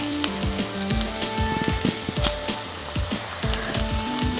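Chopped tomatoes fry in hot oil with onions for an egg masala curry, giving a continuous close sizzle with crackles and scraping stir sounds throughout.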